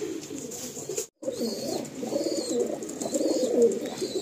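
Madrasi pigeons, two males and a female, coo steadily in their loft, a continuous low warbling chorus broken by one brief silence, close and without voices.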